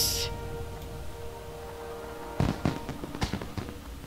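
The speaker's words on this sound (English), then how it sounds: "Yay, fireworks." Fireworks go off at the Brewfest event in World of Warcraft, a soft launch whoosh followed by a quick run of sharp pops and crackles in the second half, moderately loud against a faint game hum.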